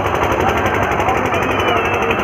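A long string of firecrackers bursts near a Ravana effigy at a Dussehra celebration, a dense, loud, rapid crackle that runs without a break, with voices mixed in underneath.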